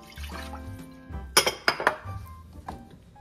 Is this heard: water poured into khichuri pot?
yes